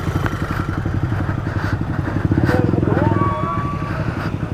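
A motorcycle engine passes close by, loud with a steady pulsing mid-range drone that swells and fades, with some rattle and clatter over the roar.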